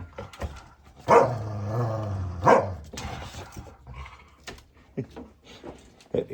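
Dogs, a senior dog and an anxious puppy, bark and growl over wood scraps in two loud bursts, with quieter scuffling, growls and clatter in between.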